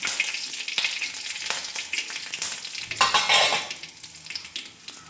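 Curry leaves and cut dried red chillies fry in a hot pan with a crackling, popping sizzle, stirred with a metal spoon that clinks and scrapes against the pan in close, busy bursts.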